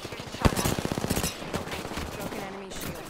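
Rapid bursts of automatic gunfire strike the player during a shooter video game match, a sharp loud crack opening a fast rhythmic volley that fades into scattered shots and game effects over a muddy mix.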